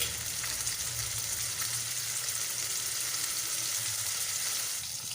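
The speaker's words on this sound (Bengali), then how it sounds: "এবার আমি গ্যাসের আঁচটা পুরো হাই ফ্লেমে করে দিলাম মাছগুলো ভাজা হওয়ার জন্য" Fish frying in a pan of hot oil over a high gas flame, an even, dense hiss of sizzling that holds steady throughout with no talking.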